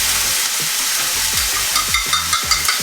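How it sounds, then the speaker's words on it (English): Two turkey slices sizzle loudly in a single frying pan, a steady hiss of hot fat with crackling pops and the scrape of a utensil moving food, heard up close with no talking. "Don't you love a good sizzle?"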